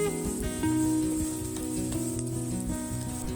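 Onion sautéing with toasted garlic in a pan, a steady close sizzle running under a low droning hum, with no voices.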